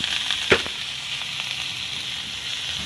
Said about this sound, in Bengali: এখানে কাঁচা লঙ্কা আর পেঁয়াজ কুচানো দিয়ে দিচ্ছি।